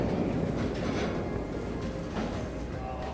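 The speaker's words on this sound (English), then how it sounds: "I was greeted by a freight train which had stopped for a while, and eventually departed again with an abrupt clang." A freight train in Shimo-Suwa, central Japan, pulls away after a stop, giving a steady loud rumble of rolling wagons with clanking and rattling throughout, close by and without voices.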